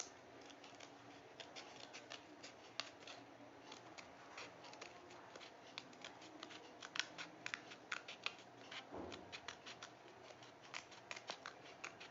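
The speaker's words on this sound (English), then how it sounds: "cut the inner circle with a pair of scissors." Scissors snip through paper in quick, irregular cuts around a pencilled circle, close and fairly quiet, continuing steadily throughout.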